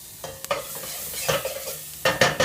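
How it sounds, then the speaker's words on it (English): Garlic sizzling in butter in a preheated pan, a steady hissing fry broken by scraping strokes of a big spatula, close and moderately loud with no talk. "I'm going to put a little bit of butter in here. I already preheated this, so bam, we're going to get the garlic sizzling right away."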